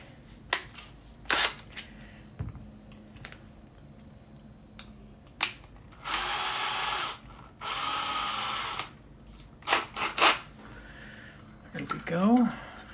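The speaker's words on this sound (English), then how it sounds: "So, a small bit like that, and just drill out the holes a bit." Drilling out screw holes in the metal shield of a Nintendo GameCube with a small bit: several short bursts of power-drill whir separated by clicks and handling noises, fairly close, with a person talking in places.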